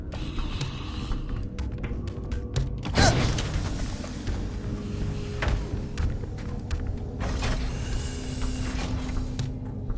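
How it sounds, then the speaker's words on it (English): A heavy door in the video game Halo Campaign Evolved grinds open with creaking machinery and a loud thud, over a steady layer of game ambience. "That is a very loud door."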